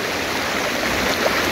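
A creek in Chalatenango, near a lagoon, rushing steadily as broadband water noise, close and loud, with no talk over it and light rain falling.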